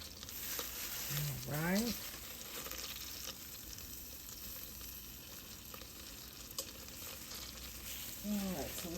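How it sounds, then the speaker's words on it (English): Garlic and butter sizzle steadily over medium heat in a big soup pan for chicken gnocchi soup, a constant frying hiss with occasional stirring, with a short spoken phrase near the start and again at the end. "so we have the garlic in the pan. We're melting the butter."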